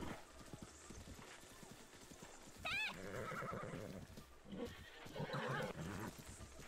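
A horse in a video game gives a rising, wavering whinny in the middle of the clip, with hoofbeats and game ambience around it and someone talking through much of it.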